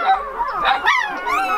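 Two-day-old Bucovina shepherd puppies whimper and yip in a rapid string of high, wavering cries, close and fairly loud, with no talking.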